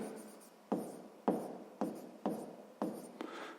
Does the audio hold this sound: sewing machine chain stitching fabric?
no